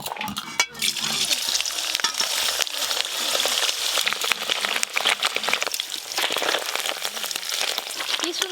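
Paneer fries in very hot white oil, crackling and sizzling steadily at close range with dense, rain-like spatter throughout.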